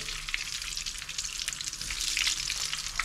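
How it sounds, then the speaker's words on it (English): Zucchini flowers stuffed with mozzarella fry in hot oil. A dense, bright crackling sizzle stays close and continuous and swells slightly toward the end, with no talk. "This is the instant ready to fry. So I'm going to fry it."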